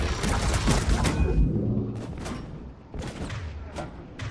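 Heavy automatic fire from a dual turret in Mass Effect 3 pounds in a dense, loud burst, then breaks into short separate volleys, with no talk.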